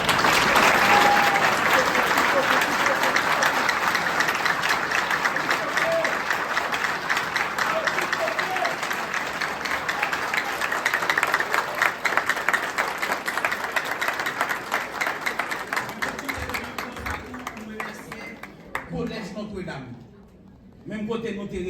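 A crowd at an event breaks into long, loud, dense applause that holds steady for most of the stretch, then fades as voices come through near the end.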